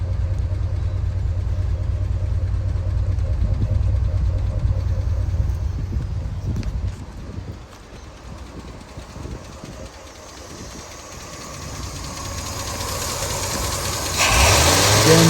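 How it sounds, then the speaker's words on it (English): A 1968 Cadillac De Ville hardtop sedan V8 with a working carburetor idles with a steady, loud, close rumble, then dips and climbs again into a rising rev near the end. "Again, revving it up, as you can hear, nice and responsive"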